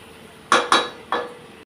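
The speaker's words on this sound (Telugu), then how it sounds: "మళ్ళీ ఒకసారి కలుపుకోండి ఈ వంకాయలు" A utensil stirs brinjal pieces frying in a pan, giving three sharp metallic clinks against the pan close by with no talking.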